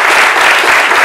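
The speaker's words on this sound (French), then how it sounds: "Merci de l'accompagner jusqu'à nous et surtout avec vos applaudissements" Studio audience on a midday French-language TV talk show applauding a guest's entrance, a loud, dense wash of clapping filling the whole second.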